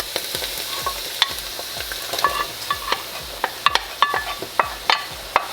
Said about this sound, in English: Let me let this saute for a little bit, and then I'll add the garlic confit to the party.